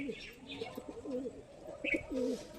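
A golden high flyer pigeon, sitting on eggs with a chick nearby, gives a series of soft, low, throaty coos close by in a quiet setting.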